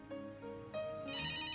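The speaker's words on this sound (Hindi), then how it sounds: "फोन बज रहा।" A telephone rings with repeated electronic bell-like tones, moderately loud and steady across the short stretch, with no voices over it.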